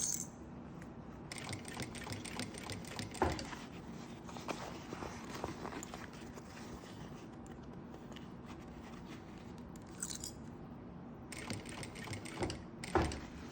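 Sewing machine stitching a reversible double-sided fabric pouch, running in a steady mechanical hum with short bursts and pauses and a few sharp clicks, close and moderately loud with no talking.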